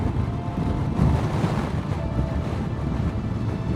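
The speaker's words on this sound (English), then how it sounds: "It's a bit windy." Constant loud wind from Storm Eowyn buffeting the microphone, a dense low roar with no pauses and no talking.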